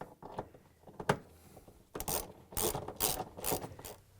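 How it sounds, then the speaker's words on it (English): A 10mm socket wrench ratcheting as it tightens a bolt on a Samsung washer tub, a few short clicking bursts close by in a quiet room. "we're going to continue installation with a 10mm socket wrench"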